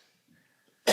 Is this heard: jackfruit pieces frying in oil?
no